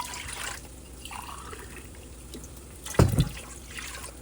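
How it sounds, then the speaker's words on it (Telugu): Water pours into a pan ahead of boiling rice for paneer biryani, a brief close splash and gush rising out of quiet kitchen background after a few soft earlier trickles. "ఒక three and half cups water add చేస్తున్నాను"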